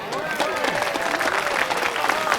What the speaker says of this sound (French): Un applaudissement pour elle, s'il vous plaît.